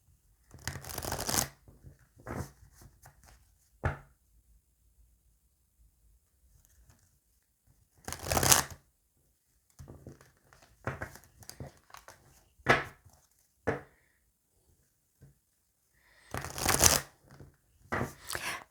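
Oracle cards being shuffled by hand in bursts of riffling and patting, separated by quiet pauses, close and crisp with several longer shuffles spread throughout.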